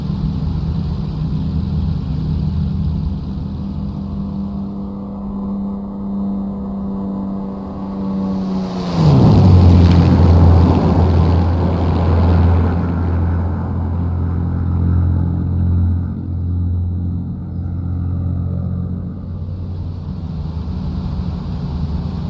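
A P-51D Mustang's piston engine in Microsoft Flight Simulator makes a low pass over a runway near Wanaka, a steady loud drone that swells as it rushes past, then drops abruptly in pitch and fades into a lower hum.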